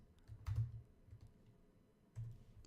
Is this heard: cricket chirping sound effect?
no